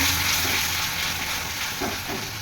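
Onion with ginger-garlic paste fries in hot oil as it is stirred, giving a steady close hiss and sizzle with faint scraping of the spoon and no voices.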